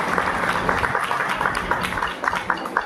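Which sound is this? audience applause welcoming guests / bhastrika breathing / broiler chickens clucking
audience applause welcoming guests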